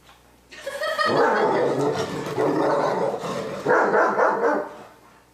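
German Shepherd dogs at rough, physical play give off bursts of close barks, yips and growls in two or three loud clusters that fade away at the end.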